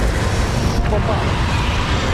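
A Bombarda blasting spell in the Hogwarts Legacy game goes off as a deep rumbling explosion, a burst around the midpoint that trails into a low, sustained roar beneath steady noise.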